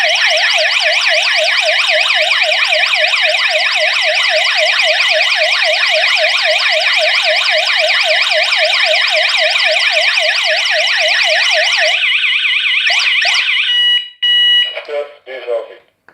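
A GSM home alarm system siren wails loudly and piercingly in a rapid warbling pattern after a door is opened, cutting off abruptly near the end, followed by a few brief tones.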